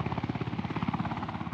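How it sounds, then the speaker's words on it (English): Steady, close rotor thumping of a UH-1 Blackhawk helicopter delivering sandbags to an incident, a fast regular beat over a heavy engine drone, loud and continuous with no talk. "We're delivering them with the UH1 Blackhawk helicopters to the incident"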